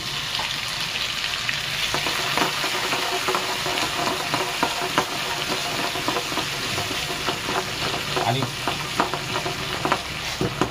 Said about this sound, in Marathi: कढीपत्ता टाकल्याच्या नंतर आपण टाकूया लसूण